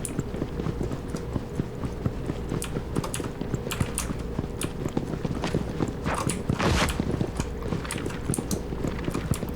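Fast, dense footstep-like tapping from players moving around in the video game Hyperscape, close and continuous with rapid clicking throughout.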